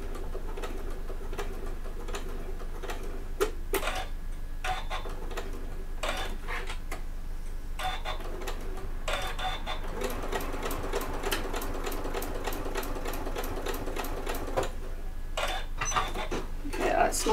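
A sewing machine stitches a bag close to a D-ring, its needle running in rapid ticking bursts of varying length with short stops, close up, with a voice talking at times over the work.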